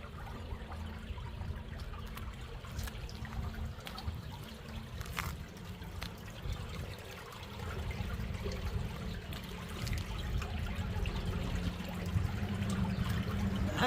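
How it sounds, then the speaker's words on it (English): Water rushes and trickles beneath a manhole cover where a river runs underneath, a steady low churning flow that swells slightly louder toward the end, heard close with no voices. "Man, that water is moving right there."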